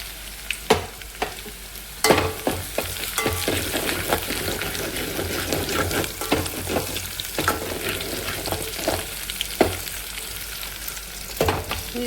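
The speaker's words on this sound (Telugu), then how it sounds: "నూనె కూడా కాగిపోయింది ఎండుమిరకాయలు వేసేస్తానండి వెల్లిపాయ కూడా వేసానండి చక్క దీన్ని వేగనిద్దామండి" Dried red chilies and garlic fry in hot oil with a loud, steady sizzle, sharp spoon scrapes and stirring knocks scattered throughout, no voices.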